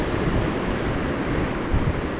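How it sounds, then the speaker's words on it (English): Ocean surf rolling in and crashing at the shore below Portland Head Lighthouse, a steady broadband wash of breaking waves mixed with wind buffeting the microphone, loud and continuous with no voices. "let's look at those crashing waves"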